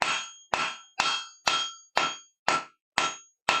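A ball peen hammer strikes metal at a forge in eight evenly spaced ringing clangs, each with a bright metallic ring that decays quickly before the next blow, close and fairly quiet, with no voices.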